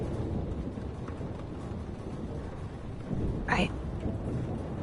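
A heavy storm rumbles with steady rain in Life is Strange, a low continuous roar with a brief sharper crack near the end, under characters' voices.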